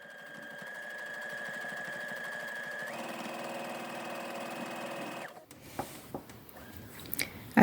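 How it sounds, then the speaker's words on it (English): A sewing machine edge stitches a ric rac hem on a plain fabric blouse, running in a steady, close, rapid whir for about five seconds, then stopping, followed by small handling clicks and rustles. "I want to edge stitch really close to the edge."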